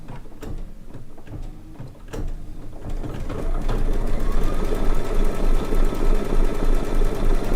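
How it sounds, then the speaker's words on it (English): A sewing machine running a tack-down stitch around a small fabric circle on a quilt block. It opens with a few clicks and button taps, then settles into a loud, steady mechanical whir up close, with no talking. "Then we'll press the start button and it'll do a tack down stitch for that little circle."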